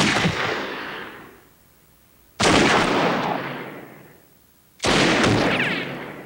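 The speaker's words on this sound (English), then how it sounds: "her cop roommate's literally sitting in her apartment shooting at targets" Three loud gunshots from a comedy film scene, someone firing at targets inside an apartment, each a sharp blast followed by a long echoing decay, spaced about two and a half seconds apart.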